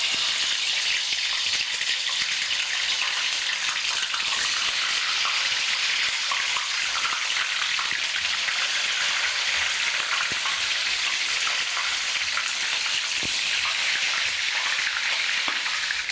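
Pieces of cassava (mogos) frying in hot oil for Mauritian kari, giving a steady, dense sizzle and crackle that stays even throughout with no voices.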